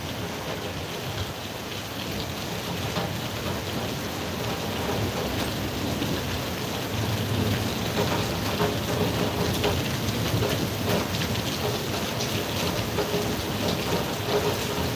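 Steady heavy rain during a storm, with dense drops pattering on surfaces and low thunder rumbling beneath, continuous and fairly loud with no voices.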